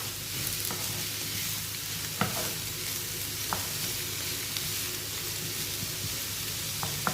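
Vegetables for a vegetable lasagna sizzling and frying in a pan, a steady close hiss with a few sharp crackles and pops scattered through it.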